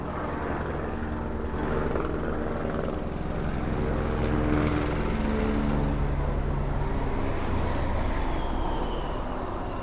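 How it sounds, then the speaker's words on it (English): A helicopter circles overhead searching for a car, a continuous broad rotor and engine roar that stays steady and moderately loud for the whole stretch, with no voices. "there's a helicopter looking for a car"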